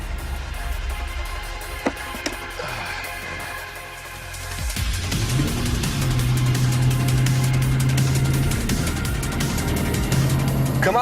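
A 2013 Chevrolet Camaro with a 6.2-litre V8 runs steadily nearby, its deep engine note rising after a few seconds into a sustained, louder hum with no talking.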